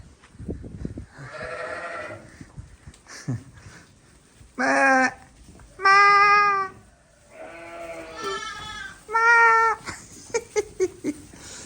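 Lambs bleat close by in a farmyard, several separate, wavering calls of varying length spaced across the stretch, with quieter rustling and shuffling between them.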